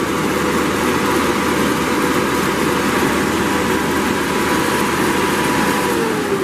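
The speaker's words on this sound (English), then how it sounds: "We're going to go ahead and fire this up and just show you how nice it chips. There's your Perkins coming to life." A Perkins diesel engine powers a 2006 Dynamic DC55 wood chipper, running loud and close with a steady rumbling idle and no talk.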